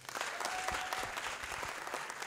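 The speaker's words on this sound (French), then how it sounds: "Applaudissez pour vous-même." Audience applause at a French stand-up comedy show, a dense steady wash of many hands clapping close by for the whole stretch, with a faint voice underneath.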